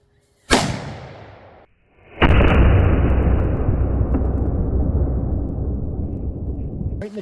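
A shotgun loaded with nail shot fires twice at a gambeson target outdoors: two loud, sharp blasts about a second and a half apart, each trailing off in a long rumbling echo, with no talking.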